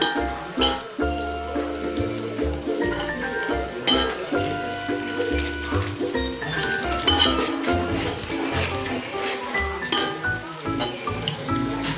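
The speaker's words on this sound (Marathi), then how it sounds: "आता आपण कांदा पूर्ण ब्राऊन करायचा होईपर्यंत आपण शिजून घेऊ." Onions fry until brown for biryani in a pan, sizzling loudly and steadily while a utensil stirs with frequent metallic clinks and scrapes, close and continuous.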